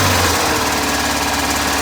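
A Volkswagen Westfalia Bay Window camper engine running steadily just after starting, a loud, close, continuous rough air-cooled rumble with a lumpy low throb and no talk.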